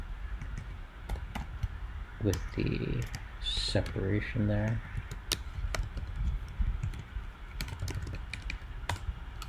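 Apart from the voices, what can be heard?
typing on a computer keyboard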